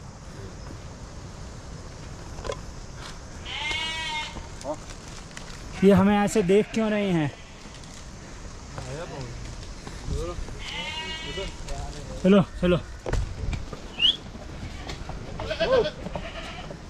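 A flock of sheep and goats bleats repeatedly on a mountain trek near Kheerganga in Kasol, with several close, wavering calls overlapping people talking nearby.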